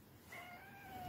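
A cat meows once, a single drawn-out, rising-then-steady meow up close with faint room noise behind it.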